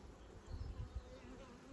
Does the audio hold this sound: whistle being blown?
no